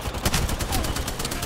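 Rapid bursts of Spitfire light machine gun fire in Apex Legends Arenas, loud and close, a dense rattling stream of shots filling the whole moment.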